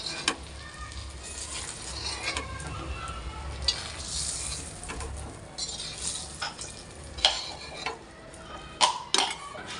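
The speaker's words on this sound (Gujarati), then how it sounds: "હવે પાછા આપણે બે ત્રણ બચાશે તો એ પાછા આપણે તળી લઈએ" Stuffed green chillies fry in a pan with a soft, steady sizzle. Scattered scrapes and light clinks of a utensil against the pan grow sharper toward the end.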